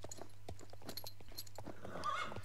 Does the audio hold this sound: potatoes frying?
no